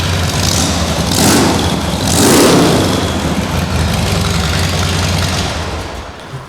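A Harley-Davidson Dyna Wide Glide V-twin with aftermarket slip-on exhausts rumbles loud and close, idling with a deep throb, then blipped through two revs that swell and fall back to idle.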